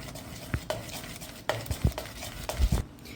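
Green gram dhokla batter with Eno added is stirred in a bowl, a handful of close spoon knocks and scrapes in an uneven rhythm over a quiet background.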